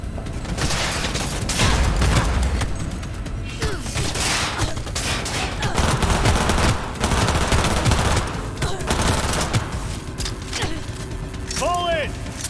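Gunfire in Cyberpunk 2077 rattles in dense, continuous bursts throughout, with mechanical clicks mixed in and shouted voices over the shooting.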